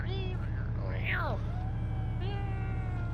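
Starting up a Savage vehicle in Arma 3 brings a rising and falling mechanical whine like a cat's meow, heard over a loud constant low engine drone.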